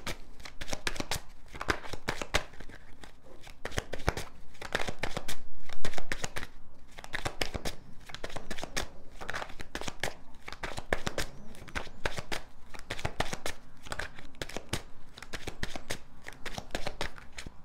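Tarot cards being shuffled by hand, a steady run of dense riffling and flicking close up, continuing without pause with no talk over it.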